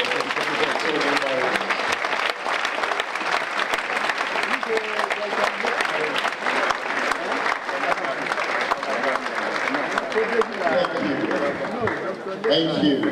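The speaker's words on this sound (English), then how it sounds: "can we give a round of applause for them?" A lecture audience claps steadily for over ten seconds, a dense wash of applause that holds near full loudness throughout, with some voices mixed in.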